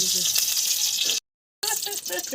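Oil hisses and sizzles steadily in a cooking pan, a bright close frying noise that cuts out for a moment and resumes, with a voice speaking over it.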